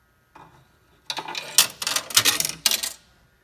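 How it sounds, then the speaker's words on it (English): A coin drops into a Coinco coin mechanism on a Northern Electric QSD 2100 panel payphone, giving a soft initial tap and then a bright metallic clatter of several quick rattling impacts as it falls through to the hopper, close and clear. "I would deposit a coin into the coin mechanism."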